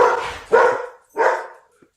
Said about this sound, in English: just my dogs barking at random passersby